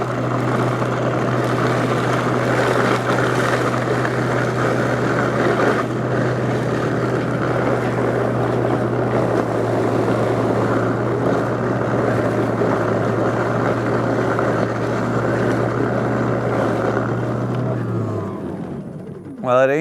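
A DeWalt 60V cordless snow blower runs in its more powerful mode through wet snow, a loud, steady electric whir and churn held close for a long stretch before spinning down near the end.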